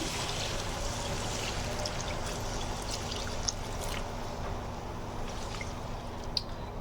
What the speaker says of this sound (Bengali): আমি পরিমাণ মতো জল দিয়ে দিচ্ছি।